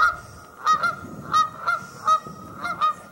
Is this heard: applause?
no